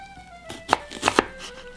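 A knife chopping an onion on a small IKEA cutting board, with a few sharp thuds in quick succession after a quiet start, close and distinct, no talk.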